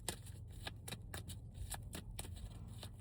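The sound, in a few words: shuffling and drawing tarot cards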